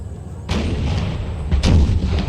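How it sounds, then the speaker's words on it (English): Saxon artillery firing in Empire: Total War, two deep booming cannon shots about a second apart, each with a sharp crack and rumbling tail over steady battlefield noise. "We got the Saxon artillery responding."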